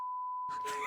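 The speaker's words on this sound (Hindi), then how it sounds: "ये बीप कर दूंगा" A single steady censor beep, a pure electronic tone sounding alone at first, then running on as noisy voices and sound rise beneath it toward the end.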